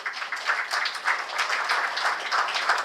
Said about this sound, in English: Please continue the applause for welcoming the team from Jefferies India Private Limited.